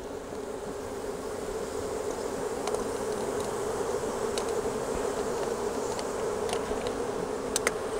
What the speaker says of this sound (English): So here's all the bees on the bottom